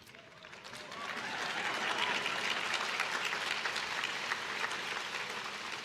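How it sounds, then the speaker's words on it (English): Sustained applause from a large commencement crowd at Harvard, swelling after the first second into steady, dense clapping that holds evenly to the end. "You know it's a nice crowd when a drink of water elicits applause."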